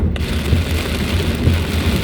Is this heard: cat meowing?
no